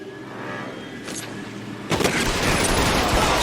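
Gunfire erupts in an L.A. Noire shootout, a faint shot or two giving way to a loud, continuous burst of rapid firing with booming reports and dense noise.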